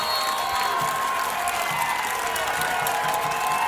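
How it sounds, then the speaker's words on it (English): A crowd in the stands at a high school football game between Alcoa and McCallie cheers and roars in a steady, continuous wash of noise, heard from a distance. "You can hear the crowd cheering them on."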